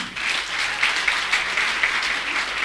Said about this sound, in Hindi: मेरी प्यारी सी टीम के लिए भी मैं जोरदार ताली के साथ स्वागत करती हूँ